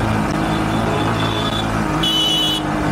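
A Runner Bolt 165R motorcycle riding along a highway in the rain, with a steady close engine drone under heavy wind and road noise and a brief high whine partway through.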